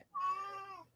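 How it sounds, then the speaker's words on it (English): A house cat gives a single drawn-out meow, close and clear, rising then falling over about a second in a quiet room. "Yeah, that's my cat."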